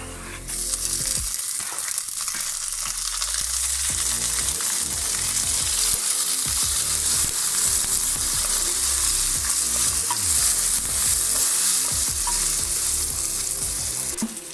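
Tomatoes fry with a loud, steady sizzle in a hot pan for a Goan pomfret fish curry, with intermittent scraping and stirring strokes, close up and continuous, with no talking.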